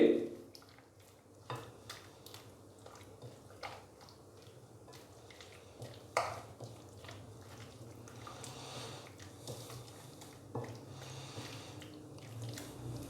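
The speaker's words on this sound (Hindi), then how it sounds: "स्पैचुले की मदद से मैंने इसको अच्छे से मिक्स कर दिया है।" A spatula works through spiced chicken marinade with coriander powder in a bowl, giving quiet, wet stirring and scraping with a few soft clicks against the bowl. The sounds are faint and close and continue over about thirteen seconds.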